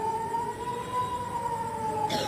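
An air raid warning siren in Israel sounds a steady, sustained wailing tone that holds evenly before breaking off abruptly at the end.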